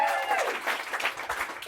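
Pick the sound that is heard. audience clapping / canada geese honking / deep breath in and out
audience clapping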